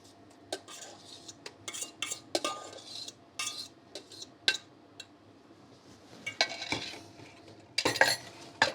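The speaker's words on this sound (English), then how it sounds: "use your spatula, pushing everything down one last time" Banana batter being mixed in a bowl with a spatula, a series of irregular scraping knocks and clinks against the dish, close and fairly quiet, with no talking.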